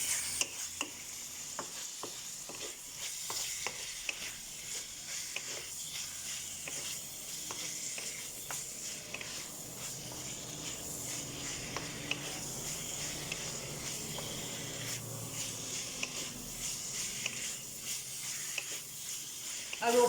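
Big chunks of onion fry in a pan as the base for an Egyptian spinach beef stew, with a steady close sizzle and hiss and occasional scraping and stirring clicks throughout.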